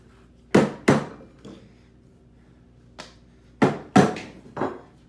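Hand chisel struck with a mallet while chopping a mortise in wood, sharp separate knocks in two clusters with a pause between them, close and clear against a quiet background.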